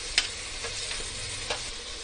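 Chopped tomatoes going into a pan of onions frying for a fish stew, a steady close sizzle with a couple of soft stirring knocks and scrapes, no voices.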